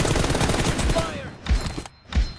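Gunfire in a shooting video game during a one-on-one team deathmatch battle: dense rapid automatic bursts, then two heavy separate shots, loud and close, with faint voice chat underneath.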